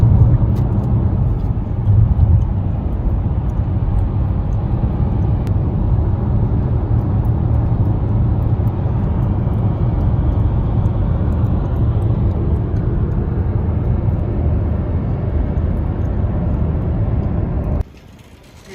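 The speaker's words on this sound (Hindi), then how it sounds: "वो देखिए एक जहाज़ आ रहा है और इधर से भी एक जहाज़ जा रहा है।" Continuous broad roar of airplanes arriving and departing near Heathrow Airport, heard steadily for most of the stretch alongside road noise, then dropping away abruptly near the end.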